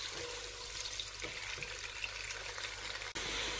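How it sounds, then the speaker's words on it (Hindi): Onions frying in a pan until lightly browned for mutton mince with peas and potatoes: a soft, steady sizzle and crackle heard close and fairly quiet, with a brief clatter near the end. "इस प्याज को हम अब हल्का सा ब्राउन करेंगे, ब्राउन होने तक इस प्याज को भूनेंगे।"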